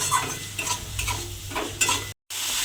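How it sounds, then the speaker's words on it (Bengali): Spice masala with a pinch of sugar being stirred and fried in oil for an aloo potol dish: rhythmic scraping strokes of a spatula over a soft sizzle, close, with a brief dropout near the end. "এবার সমস্ত মশলাটা এবার খুব ভালোভাবে কষিয়ে নিতে হবে যতক্ষণ না পর্যন্ত তেলটা ছেড়ে যায়"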